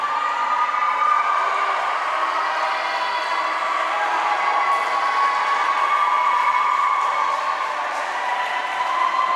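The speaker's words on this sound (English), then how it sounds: "his teammates cheer him on with about 10 yards left to go" Swim teammates cheer on a swimmer finishing the last stretch of a 200-yard freestyle heat at a high school meet against North Attleboro, a steady, loud wash of crowd noise echoing through the pool hall for the whole stretch.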